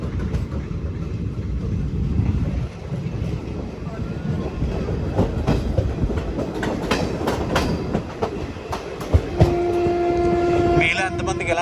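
The Bhubaneswar–Visakhapatnam Intercity Superfast Express running at cruising speed, heard from on board as a loud steady rumble and clatter of wheels on rails, with a sustained horn tone sounding near the end.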